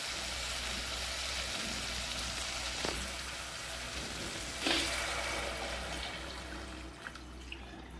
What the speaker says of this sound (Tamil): நான் 1 சொம்பு தண்ணி ஊற்றிக்கணும்.